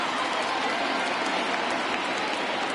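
A baseball stadium crowd at a Pirates at Cardinals game rises on a full count. The cheering and clapping is a dense, steady roar that holds at one loud level throughout.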